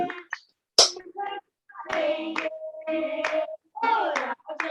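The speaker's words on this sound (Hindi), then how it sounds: "गाएंगे, ताली बजाएंगे" Hands clap in rhythm along with a Hindi Christian worship song, sharp close claps mixed with singing voices in a lively, steady beat.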